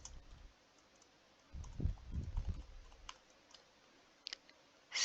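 Computer keyboard typing while writing Python code, a short cluster of soft, quick keystrokes in the middle of an otherwise quiet room, with a couple of isolated clicks later.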